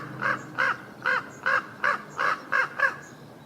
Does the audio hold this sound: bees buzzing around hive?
no